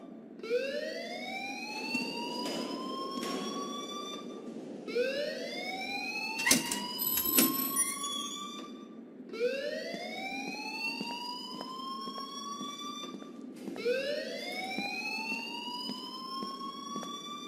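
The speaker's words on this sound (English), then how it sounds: "please turn off that alarm since that's your job" In the Life Is Strange video game, a fire alarm wails in repeated rising sweeps, four long cycles at steady moderate loudness with a few sharp clatters mixed in, no speech.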